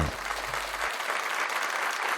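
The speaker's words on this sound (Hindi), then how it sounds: "शमशाद के लिए जोरदार तालियां" Studio audience applause for Shamshad, a contestant on an Urdu quiz show, a steady burst of clapping that fills the whole moment, with a brief low tone at the start.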